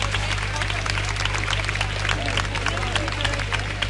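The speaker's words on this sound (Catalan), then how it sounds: "Forts aplaudiments per l'Anna." A crowd at a Lloret de Mar town-square dance event applauds a dancer with steady, dense clapping over a constant low hum, with a faint bit of crowd noise but no distinct talk.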